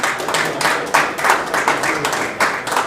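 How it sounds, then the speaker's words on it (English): A church congregation claps in praise to the Lord, a fairly loud, dense patter of many hands with a loosely rhythmic pulse, each surge of claps roughly every third of a second. "Let's give the Lord another hand clap of praise"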